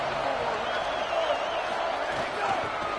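Dense, steady roar from a packed stadium crowd in an NCAA college football video game, an Ole Miss game before a big third down, held under a play-by-play voice talking throughout.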